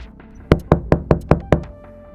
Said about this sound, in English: The voice knocks again, louder this time.